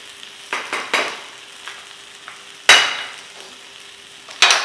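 Mexican fajita crisping on a nonstick griddle, a quiet background sizzle punctuated by several sharp spatula scrapes and taps, two of them loud and close, with no one speaking.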